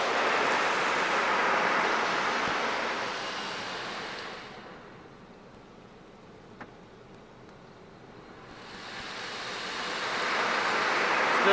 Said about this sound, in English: Now it says we're rinsing,